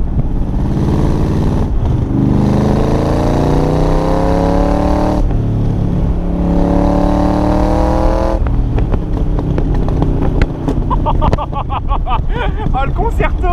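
An AC Cobra Shelby V8 rated at 302 hp, driven hard as its loud engine revs up in long rising pulls, each ending with an abrupt gear-change drop, followed by crackling and popping off throttle, with a voice talking over it.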